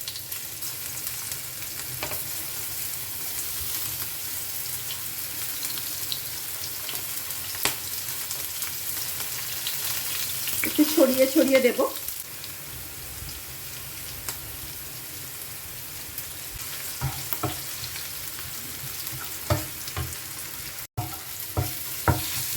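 Marinated okra crackles as pieces go into hot oil one by one, giving a sizzling burst near the middle and steady soft frying throughout. A voice briefly speaks over the cooking.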